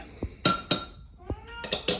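A cat meows a few times in short, bright cries, mixed with crisp clinks like dishes or glass being handled nearby, all close and fairly loud in a quiet room.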